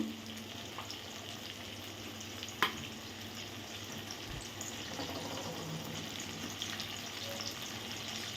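Ginger garlic paste fries with onions and tomatoes in a pan, a quiet steady sizzle with one brief utensil tap, close and without talk.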